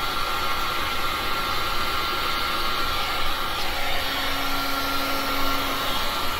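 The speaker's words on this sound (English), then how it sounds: "All I want to do is just blow some of the resin towards the edge where I see dry spots." An air gun blows a continuous, loud stream of air across a wet resin pour, pushing resin toward the edges, a steady hissing roar with a faint tonal hum throughout and no talking.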